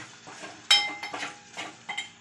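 A metal spoon scrapes and clinks against a pot while stirring spices for chicken in a few uneven strokes, close and fairly quiet, with no talking.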